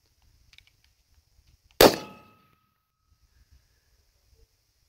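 A single sharp, loud rifle shot from a 6.5 Creedmoor fitted with a 3-port Beast muzzle brake, with a brief decaying tail in otherwise quiet surroundings.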